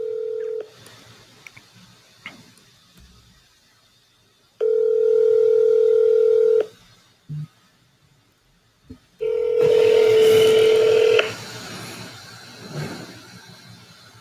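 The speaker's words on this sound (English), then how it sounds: "I'm going to call him." Telephone dial tone and dialing beeps while calling someone, loud steady tone bursts separated by gaps, with a short beep between them and faint background noise, no talk.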